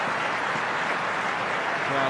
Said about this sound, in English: Crowd appreciating the quality on show there.